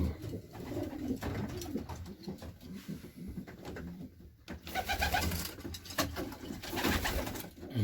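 Several pigeons cooing inside a pigeon loft, overlapping soft throaty calls repeating continuously at close range, with light rustling and fluttering behind them.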